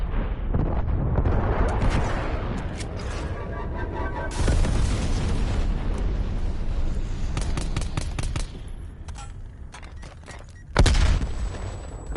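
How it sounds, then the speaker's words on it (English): Napalm strike in Call of Duty Cold War multiplayer, loud rumbling blasts and crackling fire bursts continuing for several seconds, with sharp impacts and gunfire-like pops fading toward the end. "Enemy napalm strike incoming."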